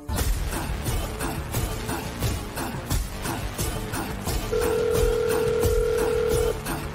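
A telephone being dialed in a Telugu TV drama scene: a steady electronic phone tone holds for about two seconds over a busy background of music and noise.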